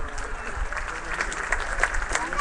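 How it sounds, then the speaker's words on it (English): Applause from an audience at an Islamic Center of San Gabriel Valley community event, a steady, moderately loud patter of many hands with a faint murmur of voices underneath. "So please give her a warm round of applause."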